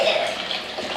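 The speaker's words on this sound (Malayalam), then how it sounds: "ഇത് കഴുകി വൃത്തിയാക്കുക." Running water from a tap washing vegetables and ingredients for a vegetable kurma, a steady close splashing hiss over one brief second.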